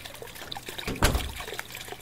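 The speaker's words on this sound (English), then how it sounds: "Is this sink? Yikes, the water. The faucet is busted." Water runs from a busted sink faucet in a video game, a short gush of trickling, pouring liquid that swells near the middle and fades, fairly quiet against a faint background.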